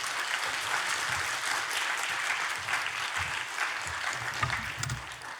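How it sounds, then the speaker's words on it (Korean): A church congregation at a Wednesday worship service in Daegu applauds to welcome a missionary to the pulpit, steady dense clapping that fills the room without pause. "우리 나오실 때 환영의 박수 하나님께 올려드리도록 하겠습니다"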